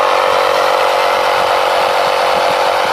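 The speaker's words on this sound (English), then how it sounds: "Whacking some air in that tyre." An air pump runs loud and close as it inflates a Land Rover tyre, giving off a steady, buzzing mechanical whir for the whole stretch with no talk.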